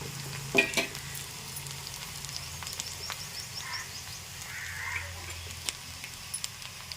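Chana dal and urad dal frying in sesame oil for a grated raw mango chutney, a soft continuous sizzle with scattered light crackles and a few spoon knocks, fairly quiet throughout.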